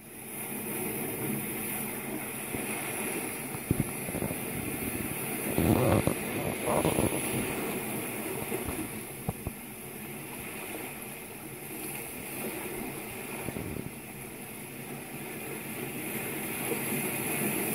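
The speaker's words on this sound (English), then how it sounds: "Here's the sound of the ocean." Recorded ocean-wave sounds play from a Google Home Mini smart speaker, a steady broadband wash of surf that swells and recedes several times over about eighteen seconds, with no voices.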